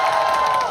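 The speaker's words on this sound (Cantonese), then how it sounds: "我相信我哋幕後嘅團隊都聽到你嘅掌聲" Cinema audience at a Hong Kong premiere screening of a Stephen Chow film, a dense, steady wash of crowd cheering and applause, loud and sustained through the short moment.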